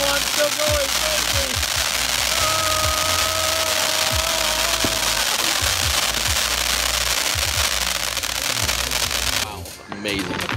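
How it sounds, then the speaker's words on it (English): Fourth of July fireworks and firecrackers go off in a loud, rapid string of cracks and booms. The barrage carries on almost without pause, then cuts off near the end. "These insane fireworks."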